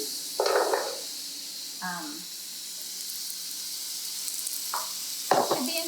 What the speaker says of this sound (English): So I'm putting the hamburger in the pan here, and I'm also going to put the onions in.